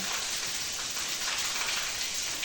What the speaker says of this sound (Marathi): किती पाऊस चालू आहे हा डायरेक्ट गच्चीवरून पाणी चालू आहे